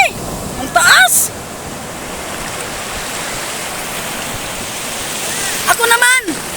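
Loud, continuous roar of ocean surf crashing close by, with brief excited voices at the start and end.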